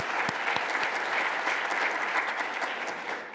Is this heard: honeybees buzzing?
no